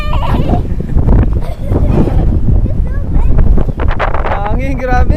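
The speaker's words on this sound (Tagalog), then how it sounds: "Hangin, grabe." Strong wind roars across the microphone at a resort campsite in Laguna, loud and continuous, while people talk and a voice rises over it.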